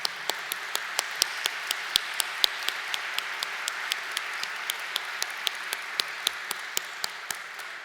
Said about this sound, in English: applause too